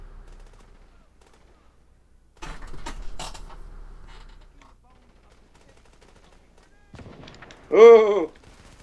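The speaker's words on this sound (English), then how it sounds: "Single sniper shot." A sniper rifle fires in the video game The Division, a sudden crack with a few sharp clicks and a low tail, moderately loud; later a man exclaims loudly.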